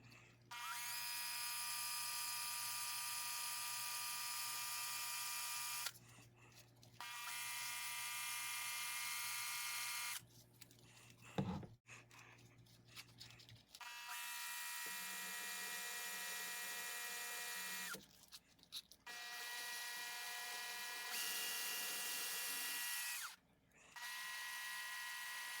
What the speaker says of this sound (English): I'll use coarse 120 grit sandpaper to rough up the outside of the case.